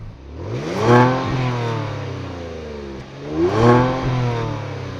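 A 2022 Kia Stinger GT engine revs twice from outside, each rev climbing sharply then falling back, loud and close with a throaty exhaust tone.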